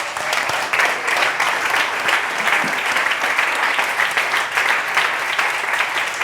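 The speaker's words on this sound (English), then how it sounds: "Let's give Bruce a round of applause." Audience at a talk applauding, a dense, sustained round of clapping that stays even and loud from start to finish.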